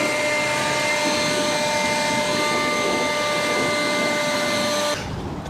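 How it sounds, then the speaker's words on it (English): A leaf blower roars loud and close as it clears debris off a Husqvarna TS-242XD riding mower, holding a steady whine with a sharp tonal edge before cutting off abruptly near the end. "since I have the blower out, might as well blow everything off"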